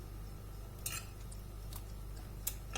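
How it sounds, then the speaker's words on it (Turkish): A spoon stirring custard in a pot on the stove, with a few faint scrapes and light clinks of metal against the pan over a low, steady background hum. "Şimdi ocağın altını açıp kıvam alana kadar karıştıracağım."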